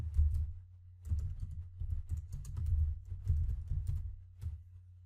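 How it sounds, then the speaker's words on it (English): Someone types a name on a computer keyboard: a close, quiet run of quick, irregular key taps with short pauses between bursts. "I'm going to go ahead and type in my name."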